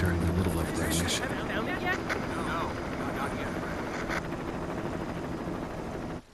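A helicopter flies over a forest zone in the Resident Evil HD opening, a steady whirring rotor drone with wind noise running throughout while a narrator speaks over it.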